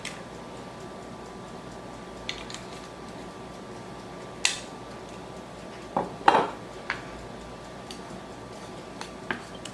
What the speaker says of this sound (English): So I'm going to toss these little shallot rings with a little bit of olive oil